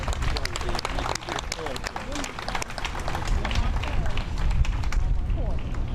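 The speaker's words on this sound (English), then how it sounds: "A round of applause for Chicago Body Shop" An audience at a Neighborhood Opportunity Fund grant finalist announcement claps for a local business, a mix of scattered and fuller clapping under crowd murmur and nearby talk.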